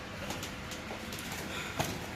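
Grizzle pigeons coo softly at a pigeon market stall, faint low calls over steady background noise.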